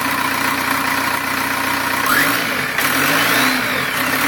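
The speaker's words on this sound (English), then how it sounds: "Okay, give it some revs." Close up, a car running through a single exhaust pipe capped with a paint can lid idles, then revs up and falls back twice in quick swells, and no talking is heard.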